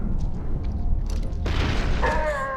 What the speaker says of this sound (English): That was a bad grenade toss.